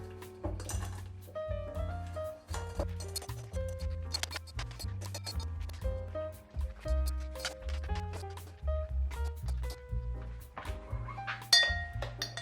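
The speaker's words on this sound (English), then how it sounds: "These are my little ice cubes that I'm obsessed with." Small ice cubes clink and knock against a glass of iced coffee in a continuous run of bright, close taps. Soft music plays underneath throughout.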